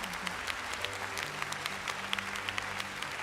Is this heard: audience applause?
yes